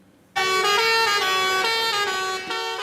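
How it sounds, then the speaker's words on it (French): Loud, sustained car horns blare together in a steady chorus at a farmers' protest in Brussels, several honks overlapping at close range with a brief dip near the end. "À coups de klaxons et de pétards"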